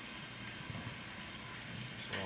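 Pot of water with noodles and a layer of oil heating toward a boil on a home stove, giving a steady, fairly quiet broadband sizzle and hiss with faint bubbling, unbroken through the short stretch.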